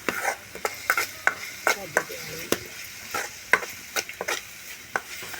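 Green chillies, coriander and peanuts sautéed in a pan, with repeated clacking stirs of a spatula over a steady soft sizzle, close and fairly quiet throughout.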